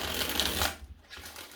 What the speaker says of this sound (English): 4 shuffles for you, Cap.